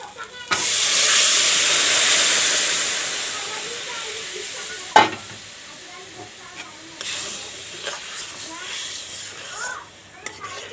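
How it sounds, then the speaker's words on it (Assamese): Hot water hits a pan of frying raw banana curry with a sudden loud hiss and sizzle that slowly fades into softer bubbling, followed by a few clinks of a utensil and a person speaking nearby. "এতিয়া মই গৰম পানীখিনি ঢালি দিম।"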